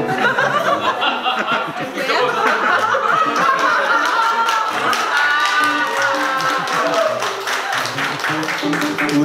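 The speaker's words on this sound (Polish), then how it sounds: "Dlaczego pani klaszcze?" Steady rhythmic hand clapping by a woman at a wedding, close and fairly loud, mixed with people talking and bursts of laughter.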